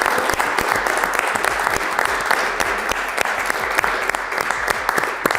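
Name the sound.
applause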